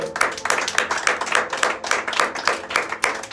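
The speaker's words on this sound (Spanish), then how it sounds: "Dele palmas al Señor." A church congregation clapping for the Lord during a sermon, a steady rhythmic handclap pattern from many hands, fairly close and even.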